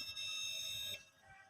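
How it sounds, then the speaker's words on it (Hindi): A Uni-T digital clamp meter sounds its continuity buzzer as the probes touch, giving one steady, fairly loud electronic beep lasting under a second, then cutting off to quiet. "जब हम इसको आपस में जोड़ेंगे तो बज़र की आवाज़ आएगी।"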